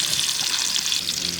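Meat sears in a frying pan, a thicker piece left to cook a little longer, giving a steady, close, loud sizzling hiss that runs unbroken throughout with no talk.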